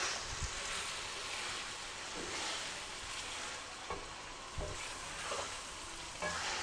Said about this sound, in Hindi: चिकन हमारा तकरीबन फ्राई हो चुका है